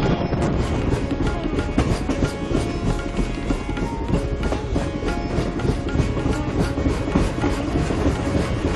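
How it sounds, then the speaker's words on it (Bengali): The Narmada Express rolls along a winding track, a steady close rumble with rattling wheels and some wind buffeting the microphone throughout. "নর্মদা এক্সপ্রেসে করে আঁকাবাঁকা পথে রওনা দিলাম"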